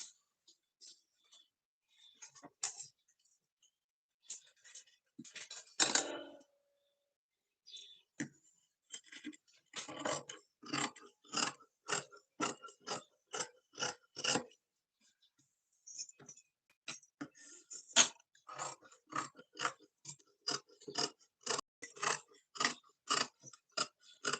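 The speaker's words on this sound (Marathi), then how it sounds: "आता हिची सुद्धा आपण कटिंग करून घेऊ" Scissors cutting fabric for a princess-cut blouse, a long series of crisp, close snips coming in quick rhythmic runs separated by short pauses, with no talking.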